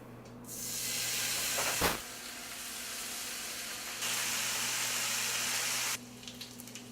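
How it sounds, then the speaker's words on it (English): Pieces of bacon frying in an already hot skillet, a loud steady hiss and sizzle that swells as more pieces go in, with a brief clunk partway through and a drop near the end. "So I'm going to go ahead and brown up a little bit of bacon."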